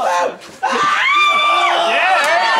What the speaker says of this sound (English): Was that a girl shriek?